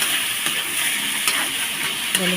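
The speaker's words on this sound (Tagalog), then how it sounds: "Haluin, ang haluin para medyo naluto siya." Bean sprouts sautéing with tomato and chicken gizzard, a loud continuous hiss of frying oil broken by a few brief scrapes of a spatula stirring the pan, close up with no voices.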